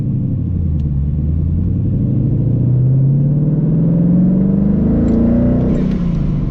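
A supercharged, methanol-injected Mustang engine rumbles loudly up close, its deep idle rising into a climbing rev with a swelling, whining pitch near the end.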